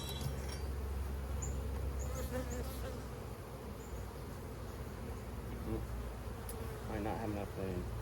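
Honey bees buzzing around a hive that recently went through a requeen, a dense steady drone with individual bees flying close past, with brief talk in the background.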